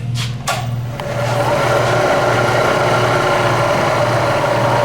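Bridgeport milling machine running under its own power, a steady close motor hum with a faint low vibration, starting after a couple of brief knocks and then holding constant.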